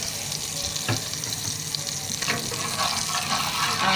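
Ghee heating in a pan for mutton karahi, a loud continuous watery sizzle and hiss with a couple of brief clatters, without speech.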